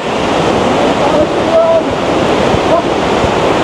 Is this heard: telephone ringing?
no